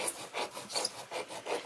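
A coin scratches a scratch-off card from a candy bag in short, repeated rasping strokes, close and fairly quiet, with a steady back-and-forth rhythm.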